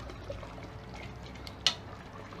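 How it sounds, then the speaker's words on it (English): Beef pepper masala gravy is stirred in a pan, making a quiet, thick bubbling and scraping with one sharp clink of the spoon against the metal. "So keep stirring, otherwise it will stick at the bottom."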